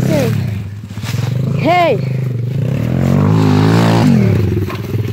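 Modified SSR125 dirt bike on a hill climb, its engine revving and droning nearby, with a brief rising whine in the middle and a voice calling out over it.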